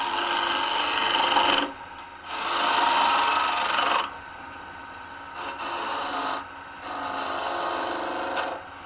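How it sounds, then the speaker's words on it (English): A skew chisel takes peeling cuts on wood spinning on a lathe. The cuts come as loud rasping scrapes in several bursts of a second or two, with short gaps between them. "we'll come in with our skew chisel, we'll back off here about 1 inch, and we'll just make a V cut. And then we're just going to do some peeling cuts here."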